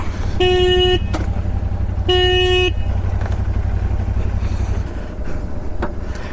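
Motorcycles and cars rumble loudly in traffic as a group of bikers sets off from a hotel near Panchgani, with two long, close horn blasts early on and a steady engine drone throughout.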